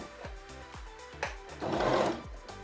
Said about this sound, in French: je commence ma couture doucement